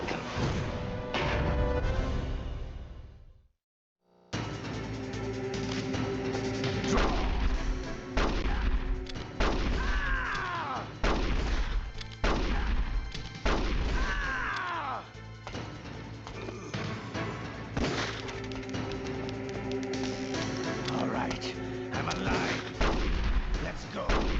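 Revolver gunshots in a Metal Gear Solid video game duel, a series of loud sharp blasts with ringing tails scattered over a sustained game soundtrack, with a brief silence near the start.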